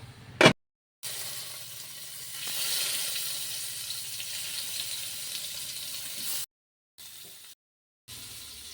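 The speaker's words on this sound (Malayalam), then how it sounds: "ഇനി ഇമ്മ ഇതവിടെ മീൻ പൊരിക്കാൻ പോവാണ്." Fish frying in a pan gives a soft, steady sizzle and hiss that runs for several seconds, broken by short silent gaps.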